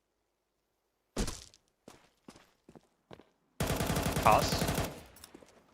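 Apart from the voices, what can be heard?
gunfire from wallbang attempts in the video game CS2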